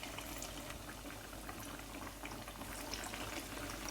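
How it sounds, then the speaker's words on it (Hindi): Samosa pinwheels coated in batter deep-frying in hot oil in a large kadhai, giving a steady, dense bubbling sizzle that holds close and even throughout, with no talking. "3 मिनट एक साइड से पकाएंगे और 3 मिनट एक साइड से, और मज़ेदार पिन व्हील फ्राई हो जाएंगे"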